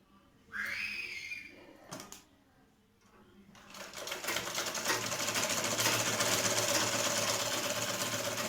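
A sewing machine stitches along the folded edge of a lehenga lining for a child's dress, its steady whirring starting after a brief pause and running loud and continuous to the end, with a little voice early on.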